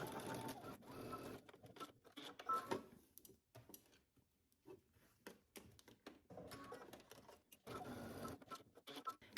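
A sewing machine stitches across the shoulder seams of a garment facing at a 5/8-inch seam allowance, running in several bursts separated by brief pauses, close and fairly quiet.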